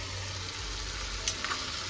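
Sliced onion and potato fry in a pan for an Andhra-style potato fry, giving a steady close sizzle with a few faint stirring scrapes and no voices.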